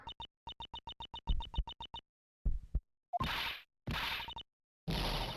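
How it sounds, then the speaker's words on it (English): A heartbeat sound effect in Ace Attorney Investigations plays as a rapid train of evenly spaced, clicky thumps. Louder thuds and whooshing bursts follow, with no voice over them. "I hear that heartbeat."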